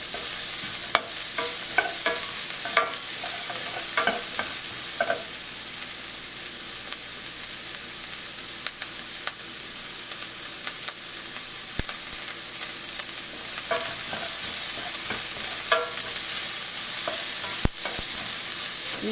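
Okra stir-fries with spices Malaysian style over medium-high heat, a constant loud sizzle with frequent scraping and clinking of a utensil against the pan, close up and without talk.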